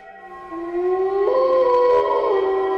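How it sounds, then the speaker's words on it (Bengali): A jackal's drawn-out howl in a cartoon rises and wavers as one long tonal cry, loud and close with no talking, set against a windy night. "হঠাৎ শিয়ালের ডাকে রনির ঘুম ভেঙে যায়"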